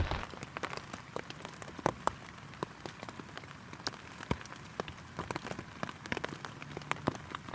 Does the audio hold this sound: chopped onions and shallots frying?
no